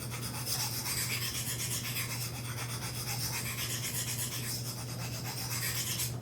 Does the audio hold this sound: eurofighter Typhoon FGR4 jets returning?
no